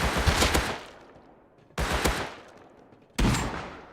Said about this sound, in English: let's go ahead and experiment and shoot some heavies with some double barrel